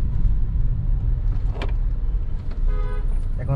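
Car driven through Gulshan 2 in Dhaka, a steady low engine and road rumble from inside the vehicle with a faint whine and brief mechanical sounds, close and continuous.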